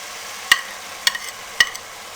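Spice masala of red chili powder, turmeric and crushed red chili is stirred and roasted in a pan over a medium flame, with three sharp spoon taps at regular intervals against a faint hiss.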